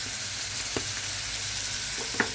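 A curry in a pan sizzles loudly and steadily as salt, chili and turmeric are stirred in, with a couple of brief scraping strokes near the middle and end, and no one talking.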